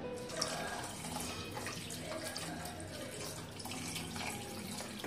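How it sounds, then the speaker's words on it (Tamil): Steady stream of water running and splashing into a pot of mutton curry, continuous and close, with no voices. "2 டம்ளர் அளவுக்கு தண்ணி ஊற்றிக்கிறேன்"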